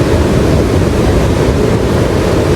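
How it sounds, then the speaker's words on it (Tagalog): Strong wind at Patapat roars as a loud, steady rush of broadband noise buffeting the microphone, with no voices over it. "Saka napakalakas ng hangin ngayon."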